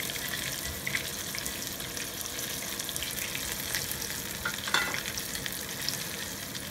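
Soft shell crab frying in very hot oil for a Cajun po boy, a steady close crackling sizzle throughout with a few louder pops and spatters, no talking.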